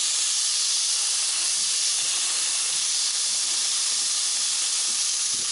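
A burger patty frying in a pan, heard as a loud, continuous hiss and sizzle that holds steady throughout without pauses or voices.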